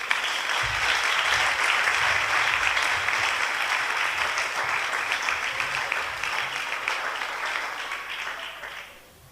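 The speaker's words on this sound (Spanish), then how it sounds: "Un aplauso." After a lecture at a workshop on the Islamic worldview, an audience breaks into loud, sustained clapping that holds for several seconds, then gradually thins and fades toward the end.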